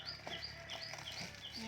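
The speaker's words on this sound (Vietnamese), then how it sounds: "Có tiếng chim hót nữa nè mọi người," Birds sing in a durian orchard, giving repeated short, high chirps that come and go at a steady pace. The calls sound faint and somewhat distant over a soft background hum.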